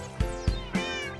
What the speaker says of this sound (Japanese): 今回は、猫さんを連れて行きますよー。